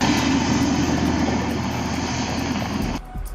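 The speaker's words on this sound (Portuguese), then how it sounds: "Helicópteros sobrevoaram a região." Helicopters fly over a community in Rio de Janeiro during a police operation, producing a loud continuous rotor and engine roar that cuts off abruptly near the end.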